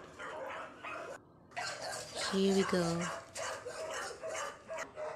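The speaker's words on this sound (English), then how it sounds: "The dog sound." Rottweiler puppy barks and yips in short bursts at close range inside a compound, with a person talking over and between the barks.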